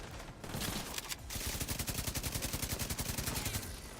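Sustained automatic light machine gun fire in The Division 2, a rapid, steady stream of shots after a brief opening burst, loud and close with no talking over it.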